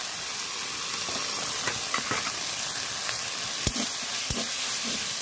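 A hand-ground cumin and coriander paste fries in hot oil with a constant close sizzle, broken by a few sharp spatula taps and scrapes.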